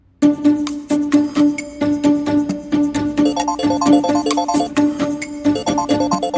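A phone rings with a repeating, bright electronic melody, loud and close, playing continuously over several seconds with no voices.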